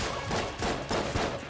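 Enemy automatic gunfire in Enter the Gungeon, a quick run of several rapid shots in bursts, fairly loud and up close, with no speech.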